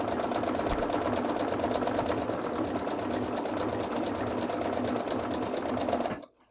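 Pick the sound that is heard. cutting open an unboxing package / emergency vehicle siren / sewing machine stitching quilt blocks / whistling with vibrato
sewing machine stitching quilt blocks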